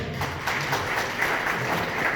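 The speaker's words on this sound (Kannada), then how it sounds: "ಚಪ್ಪಾಳೆ." An audience at a customer interaction event on slag sand usage in Davangere claps, a dense, steady patter of applause lasting a couple of seconds, with no clear voices over it.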